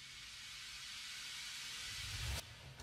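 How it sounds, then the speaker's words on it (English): A build-up white noise sample used before snares in a song, a steady broad hiss that swells slightly, then cuts off abruptly with a short low thump near the end, fairly quiet and alone. "which is actually one of those like build up white noise samples"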